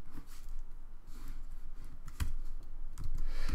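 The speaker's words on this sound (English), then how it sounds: "I can just start typing" Typing on a computer keyboard while building a Divi website: quick, uneven runs of light key clicks at close range, with a few sharper taps, and no talking.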